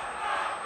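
A boxing arena crowd roars and chants for Hasim Rahman during his fight with David Tua, a dense, sustained wash of many voices with no clear break.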